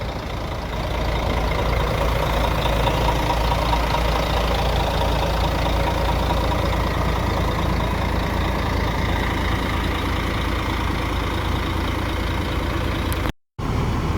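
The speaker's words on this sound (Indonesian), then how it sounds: "Kita dengar dulu nih bunyi mesinnya teman-teman" The diesel engine of an Indonesian bus with a Prima Patriot El Grande body by Moroda idles steadily and close by, a continuous low rumbling drone that stops abruptly near the end.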